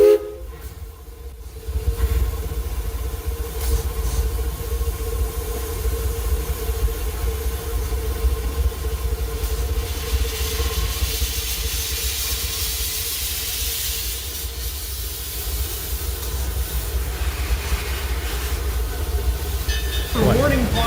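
A locomotive backs up in a roundhouse yard on a hot, still day, a loud steady rumble with sustained tonal hum throughout and a brief rise in hiss near the end.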